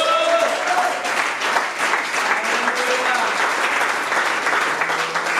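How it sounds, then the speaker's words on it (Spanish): A church congregation gives a strong, sustained round of applause during a worship service, many hands clapping steadily together, with faint voices mixed in underneath. "Demos un fuerte aplauso al Señor."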